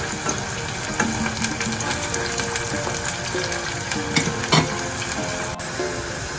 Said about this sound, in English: The aroma of the onion cooking in the palm oil